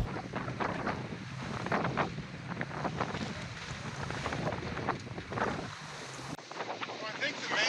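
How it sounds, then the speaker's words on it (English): A singlehanded sailboat moves under balanced sails, with steady rushing wind buffeting the microphone and water washing along the hull, continuous and fairly loud throughout. "sailing again, we can try to make the wheel pilot work at its best by balancing the sails."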